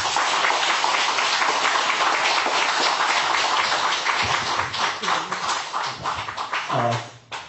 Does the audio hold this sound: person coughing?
no